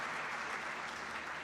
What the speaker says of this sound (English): big round of applause to the family members